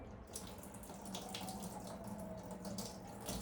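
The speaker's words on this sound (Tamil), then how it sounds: "இப்போ பாருங்கள் இந்த ஒடியல் மாவை நான் இந்த தண்ணியை தெளிய வச்சு இப்போ ஊற்றி எடுக்க போகிறேன்" Water is poured off soaked odiyal flour for Jaffna-style odiyal kool, a faint continuous trickle and splash like a tap running into a vessel, with no talking.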